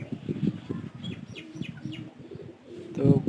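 Pigeons in a home loft coo softly in repeated low pulses with a few chirps, fairly quiet and close.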